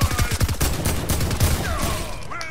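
AI henchmen firing guns at a henchman point of interest in the video game Fortnite: rapid rhythmic bursts of automatic fire up front that thin into scattered, loud shots, with faint whooshing effects and no talking.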